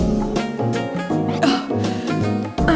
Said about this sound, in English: She seems to be coughing a lot.